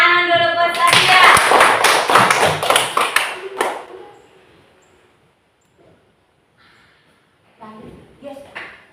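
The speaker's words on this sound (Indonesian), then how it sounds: "tepuk tangan dulu buat Sabia." A classroom of children claps together for a classmate, a loud burst of clapping lasting a few seconds that fades out, followed by near silence and then children's voices talking.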